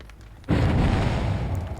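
In Dead by Daylight Mobile, after a short quiet moment, a generator explosion erupts in a sudden deep boom that rumbles on, fading slightly as it continues.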